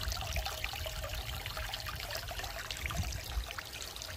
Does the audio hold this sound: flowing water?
yes